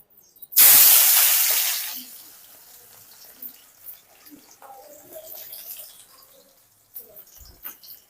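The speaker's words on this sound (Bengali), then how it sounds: "তেলটা গরম হয়ে গেছে, এখানে আমরা দিব পেঁয়াজের কুচি" Chopped onions hit hot soybean oil with a loud, sudden burst of hissing sizzle that fades over about a second into a quieter, steady crackle with small pops, for shrimp malai curry.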